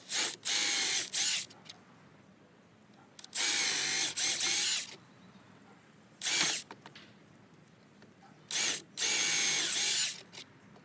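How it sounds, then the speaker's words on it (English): Power drill boring into wood to hollow out material for a table, several loud whining bursts of a second or two separated by quiet pauses, close by and without talk. "I want to start with a drill and remove as much material from in here as possible"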